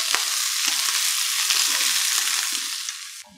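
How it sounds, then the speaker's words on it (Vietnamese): Pork hock and baby corn stir-fried in a pan, a loud, steady, close sizzle with faint scraping stirs, ending abruptly. "Mình xào sơ qua như thế này nè các bạn"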